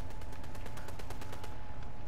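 Rapid bursts of video game gunfire, roughly a dozen close, evenly spaced shots in quick succession over a steady loud background, the firing stopping shortly before the end.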